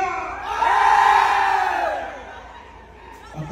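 Men in a crowd shout and cheer together at a patronal festival dance in Jicayán de Tovar, a loud swelling roar that peaks early and then fades.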